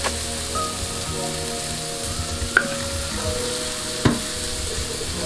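Coconut curry potatoes seasoned with black pepper and adobo are stirred in a hot pan, giving a steady close-up sizzle broken by a couple of sharp utensil scrapes.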